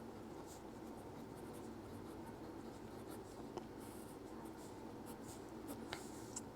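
Faint scratching of pen or chalk strokes as a Class 11 coordinate geometry solution on straight lines is written out, quiet intermittent marks over a low room hum with no speech.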